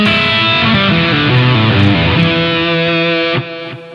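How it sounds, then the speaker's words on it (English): A distorted electric guitar plays a rock lick in E in first position near the nut with hybrid picking, bright sustained notes with slides over about three and a half seconds, then a short ringing stop. "Lick's going to be in E, down in the first position, near the nut, and the lick is going to sound like this."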